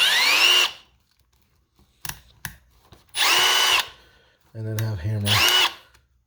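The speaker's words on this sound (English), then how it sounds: "which I kind of wanted a little 12-volt hammer drill" A Milwaukee 12-volt hammer drill runs in three short bursts of high, whining motor noise separated by pauses and small clicks, close and loud, with a brief low hum during the last burst.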